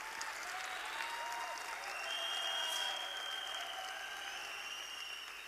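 An audience at a motivational talk claps in a sustained round of applause, a soft, dense patter heard from a distance throughout.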